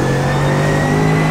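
Mercedes AMG GT3 race car engine in the iRacing simulator on the Nordschleife, a loud, steady high-revving drone under load, sustained and close, with no speech.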